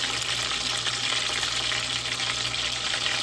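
Minced garlic sizzles steadily in a hot pan for lumpiang shanghai, a dense continuous crackle and hiss that stays loud and even throughout, with no talking.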